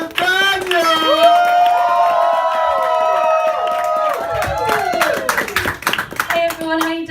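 A comedy club audience cheers with whoops and sustained hollering, then breaks into a burst of clapping that fades into scattered applause.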